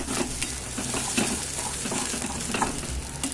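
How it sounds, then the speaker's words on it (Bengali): Pointed gourd and shrimp paste sauté in hot oil with a loud, steady sizzle while a spatula stirs and scrapes the pan continuously, close up. "এটা খুব ভালো করে এই তেলের মধ্যে কষাতে হবে।"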